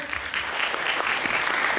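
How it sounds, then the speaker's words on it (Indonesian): Brief burst of audience applause at a startup roadshow event, dense steady clapping from a crowd indoors. "Oke, tepuk tangan guys."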